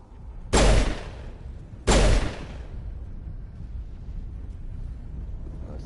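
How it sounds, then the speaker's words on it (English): Two loud, sharp pistol shots in Mass Effect 1, about a second apart, each with a brief booming tail, followed by a low ambient rumble of wind and background noise. "That's the pistol."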